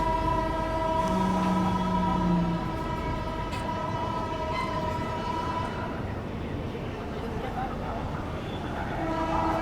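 Bihar Sampark Kranti Express rolling slowly through Aligarh Junction, a steady loud rumble of wheels and carriages with a sustained horn tone and a low hum, continuous throughout with station noise around it.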